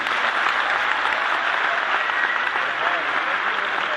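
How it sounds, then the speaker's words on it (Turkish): Women in a theater audience applaud steadily at a live stage comedy show, a dense, sustained wash of clapping with some voices mixed in. "Kadınlar bir alkışlar mısınız Allah aşkına?"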